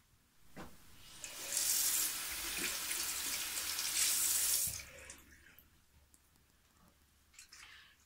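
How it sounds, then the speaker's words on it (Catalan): Water pours steadily from a tap into a sink during handwashing, a loud hissing stream for several seconds that then stops, leaving quiet drips and small handling sounds. "Jo em rento les manetes amb sabó i aigua fresqueta"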